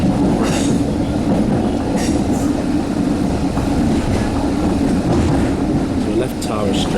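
A train bound for Bray, Ireland, rumbles along steadily with rhythmic clatter from the rails, heard from on board, with a few brief squeaks and knocks.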